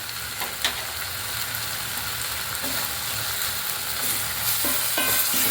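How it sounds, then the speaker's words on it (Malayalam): Roasted gram sizzles in a hot pan while being stirred, with a constant frying hiss and occasional scrapes and light knocks of a spoon against the pan, all close by. "നന്നായി ഇളക്കി കൊടുക്കുക."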